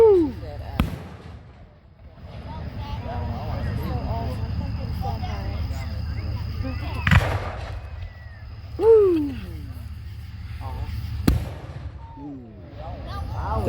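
Fireworks exploding over a large show, sharp booming bursts at intervals with whistling and crackling trails between them, while people talk and cheer nearby.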